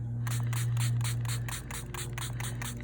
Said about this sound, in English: So I'm gonna spray them, add some water, get them activated again.